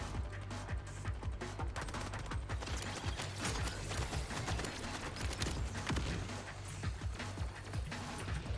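An auto turret fires in Borderlands 4, a steady stream of faint, rapid shots crackling beneath a busy, low rumbling background of combat noise.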